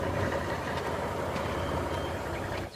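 A truck rumbles steadily at close range with a dense, continuous engine roar that drops off abruptly at the end, no voices over it.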